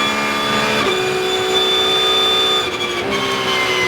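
Porsche Carrera Cup race car on the Assen circuit heard from onboard, its loud, steady engine note dipping sharply as it brakes into the chicane, then holding a strong sustained drone as it bumps through.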